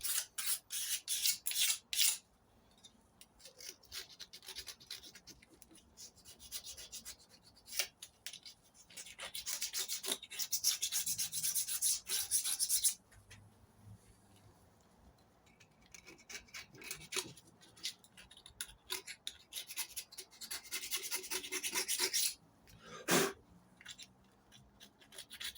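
Gasket residue being scraped and rubbed off the rear axle tube of a 1970 MGB GT, heard as close bursts of gritty abrasive scrubbing separated by quieter pauses.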